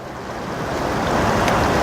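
Water sloshes and swirls steadily in a gold pan during panning, a continuous washing rush that builds slightly louder, with no voices.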